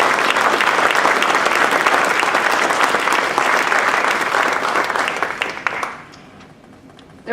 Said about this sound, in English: I think we should all give them a huge round of applause for their efforts